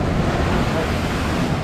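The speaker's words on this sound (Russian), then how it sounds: "Вот сейчас будет большая волна." Storm surf pounds the Yalta embankment in a loud, continuous roar of breaking waves, close by and buffeted by wind noise on the microphone.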